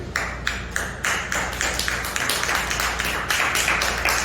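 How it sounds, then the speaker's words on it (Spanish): A church congregation clapping in a steady, even rhythm, the sharp hand claps close and continuous over a low hum of the room. "Denle un aplauso al Señor por ello."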